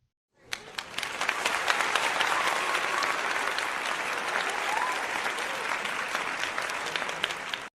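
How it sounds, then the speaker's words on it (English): An audience breaks into applause after a short silence, a sustained, fairly even wash of many hands clapping that carries on for several seconds. "Applause."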